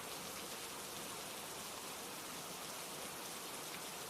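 Steady rain falls continuously, a dense even hiss of drops with no talk and no breaks, soft and uniform throughout.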